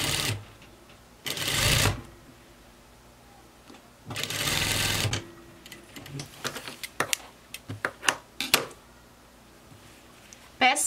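A sewing machine stitches the hem of a button-front circle skirt in two short close bursts of rapid needle chatter. Clicks, fabric handling and scattered taps follow.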